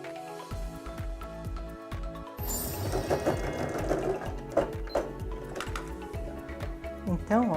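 A sewing machine stitching a fabric cover for a sewing machine runs in quick rhythmic bursts of needle clatter, close and fairly loud, with brief pauses between stretches of stitching.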